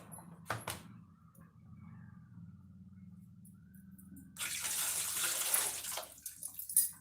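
Mint and coriander washed under a running kitchen tap, a steady close rush of flowing water that starts partway through after quieter handling sounds.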